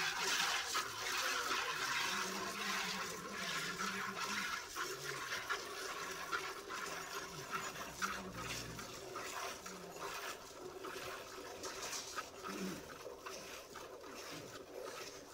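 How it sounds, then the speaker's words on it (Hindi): Hand milking of a Sahiwal cross cow in rain, with a continuous wet rushing and hissing texture throughout, steady and fairly faint. "ਸਾਈਵਾਲ ਕ੍ਰਾਸ ਹੈ ਜਨਾਬ ਫਰੀਜ਼ਨ ਵਿੱਚ ਗਾਂ ਹੈ ਤੁਹਾਡੇ ਸਾਹਮਣੇ ਜੀ ਲਾਈਵ ਚੁਆਈ"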